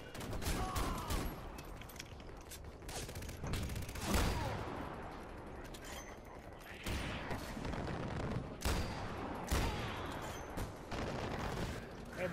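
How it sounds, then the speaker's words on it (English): Sustained suppressing gunfire in the shooter game Far Cry 4, dense bursts of automatic weapon shots crackling over a loud, busy game soundscape with heavier booms mixed in, continuous throughout. "Suppressing fire!"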